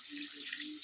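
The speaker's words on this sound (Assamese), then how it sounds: "পানী দি দিম" Water poured into a pot of cooking pork, a brief steady stream of running water, close and fairly soft.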